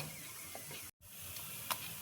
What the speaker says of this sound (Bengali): অল্প অল্প করে দেখো ঘি দিয়ে আমি ভেজে নিচ্ছি